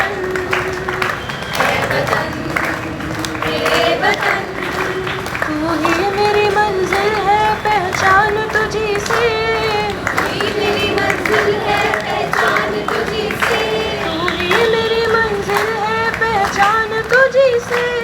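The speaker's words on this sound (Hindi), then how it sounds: "सारे लोग ताली बजा के आराम से" A street-play audience at a Kargil Vijay Diwas performance claps steadily along with a loud patriotic song, the applause blending into singing and crowd noise throughout.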